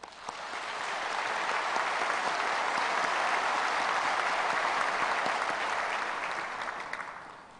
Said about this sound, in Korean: 그래서 한번 감사의 박수를 하겠습니다.